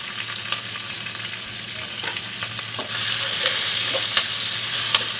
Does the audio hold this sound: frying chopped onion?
yes